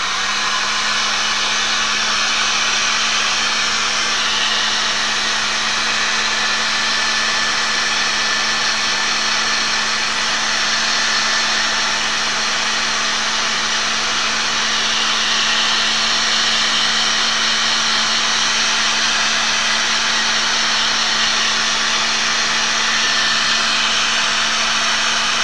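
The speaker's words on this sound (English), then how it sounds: "I'm going to use my little heat gun again" A small heat gun blows steadily while drying a wet mixed media Christmas card, a constant close whooshing hum with a faint whine, unbroken for the whole stretch with no voices.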